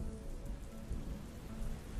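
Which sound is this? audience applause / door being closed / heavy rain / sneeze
heavy rain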